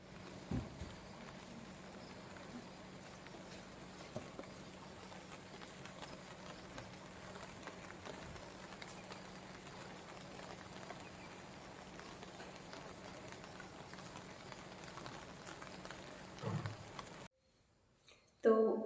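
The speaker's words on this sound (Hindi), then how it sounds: "पर बारिश हो रही है" Steady rain falls in a continuous, even hiss throughout, broken by a few faint knocks, before cutting off abruptly near the end into near silence and a brief sound.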